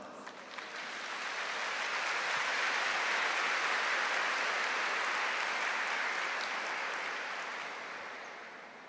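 A church congregation applauding: a dense, sustained wash of clapping that swells and holds for several seconds before slowly tapering off, heard from a distance with no speech.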